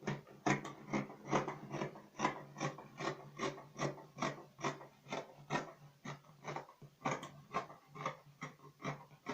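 Scissors snip freehand through fabric for a flare crop top, a close, rhythmic series of rasping cuts, roughly two per second, repeating steadily with no talking.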